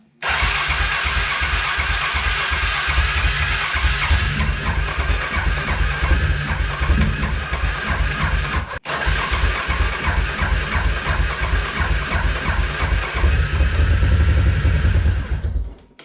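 Engine of a 1999 Suzuki Quad Runner 500 ATV with a vacuum-actuated fuel system, running rough and loud for about sixteen seconds with a brief dropout midway, then cutting off.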